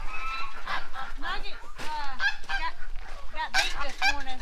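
A Sebastopol goose honks repeatedly at close range, a string of loud nasal honks in uneven rhythm with brief gaps, filling the whole stretch with little else audible.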